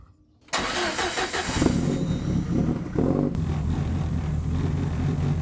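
A car with a loud boom tube exhaust fires up after a brief silence, then holds a heavy, rumbling rev that rises and falls for several seconds, loud and close, with no talking.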